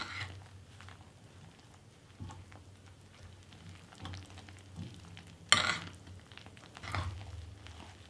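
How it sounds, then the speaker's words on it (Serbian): A spoon stirs a dough of flour, baking powder, salt and hot water in a bowl, giving soft, irregular scraping and sloshing strokes, quiet overall, with one sharper clatter midway and no talking. "i sve ću promešati sa kašikom."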